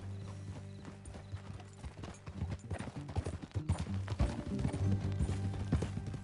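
Horse hooves clip-clop in Red Dead Redemption 2, a steady rhythmic trot of close hoofbeats that grows louder and busier over low ambient hum and creaking tack.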